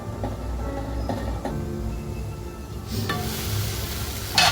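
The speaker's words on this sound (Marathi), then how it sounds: "आता हे झाकण ठेवून मी मसाला छान शिजवून घेणार आहे तेल सुटेपर्यंत" Spiced masala for Nashik-style matki misal sizzles in oil in a covered pan, a steady low frying crackle that grows brighter and hissier in the second half, with no voices.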